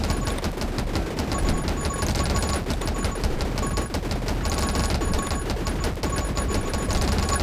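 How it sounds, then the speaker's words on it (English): Dense, continuous rapid gunfire from a video game shooter, heavy chunky bullets firing in a loud sustained burst with no pauses. "Oh my god, these are some really chunky bullets."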